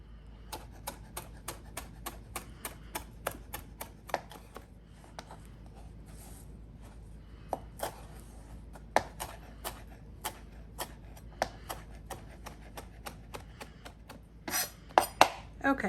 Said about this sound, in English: So now I'm going to chop up my chives and parsley.